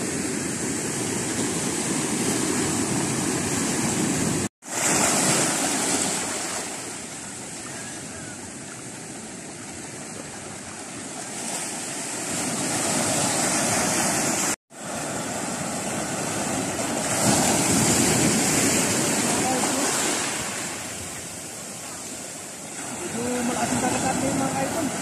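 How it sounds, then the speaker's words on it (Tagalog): Waves wash at sea in a broad, continuous roar that swells and eases over the whole stretch, loud and close, with wind-like hiss on top. "Malaking dagat natin mga ka-idol."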